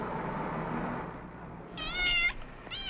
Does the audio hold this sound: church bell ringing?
no